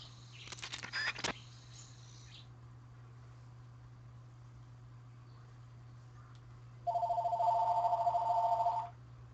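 A telephone rings in two separate bursts, a short trilling ring first and then a longer steady electronic warble, heard fairly quietly over a constant low hum.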